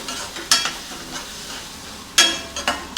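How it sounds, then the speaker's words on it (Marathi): Paste of cashew, sesame, poppy and sunflower seeds frying in oil for Kolhapuri tambda rassa, a soft background sizzle with a few distinct spatula scrapes and stirring knocks, close by and without speech. "ही आपली पेस्ट, काजू, तीळ, खसखस, सूर्यफुलाच्या बिया ह्यांची पेस्ट, ती पण भाजून घेऊया तेल सुटेपर्यंत चांगली."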